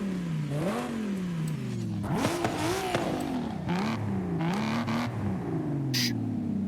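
A 7.7 liter V12 car engine in Forza Horizon 5 revs steadily, its pitch rising and falling through several swells over a continuous, close, loud drone with a brief whine near the end.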